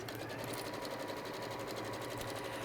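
A Juki sewing machine stitches fabric for a quilt binding in a steady, continuous whirr that holds at an even level, close and alone.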